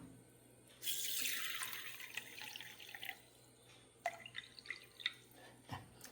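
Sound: water poured onto raw rice for soaking

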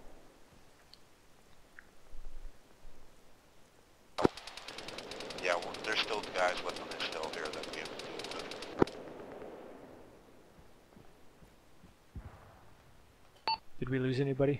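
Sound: gunfire from video game (Arma, ShackTac)

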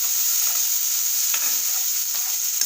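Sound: chopped tomato being sautéed in a pan

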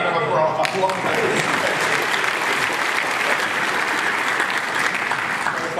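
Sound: audience applause at a WiGig demonstration

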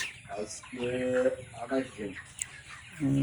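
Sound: chickens clucking on a poultry farm

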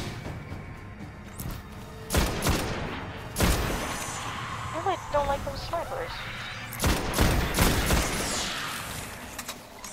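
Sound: grenade and gunfire in a video game

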